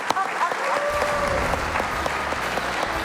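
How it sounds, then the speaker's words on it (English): A live audience breaks into steady applause after a comedy routine of business-name jokes at a Mrs. Santa Claus show, with a brief whistle cutting through the clapping near the start. "Big round of applause for the top 10 business fails."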